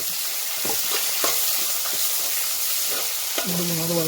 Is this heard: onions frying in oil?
yes